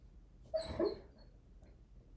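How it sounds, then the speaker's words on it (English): A sleeping dog named Puppers whimpers while dreaming on the floor, giving a short pair of soft, high whines close by in an otherwise quiet room. "Puppers is dreaming on the floor. I don't know if you guys can hear him whimpering."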